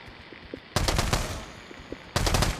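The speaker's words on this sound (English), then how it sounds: "Shoot him with the golden gun." Automatic gunfire in the Pavlov VR shooter game comes in two loud, dense bursts of rapid shots, close up, separated by a quieter stretch of background game noise.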